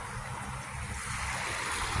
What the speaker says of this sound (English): that water comes gushing down.